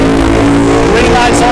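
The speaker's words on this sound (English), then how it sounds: "Both cars burning methanol, running big Hemis, and using Chevy bodies." Two methanol-burning drag cars with big Hemi engines and Chevy bodies, racing on a strip, give a loud, steady engine roar under continuous commentary. The sound stays dense and close the whole time.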